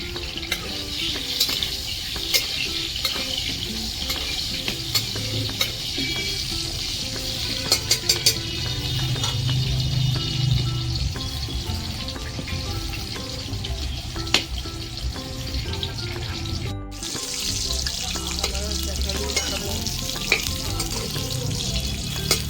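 Potatoes fry in a pan at home, a continuous sizzle with occasional scraping stirs and clatter, close and steady, with a brief dropout midway and no talk.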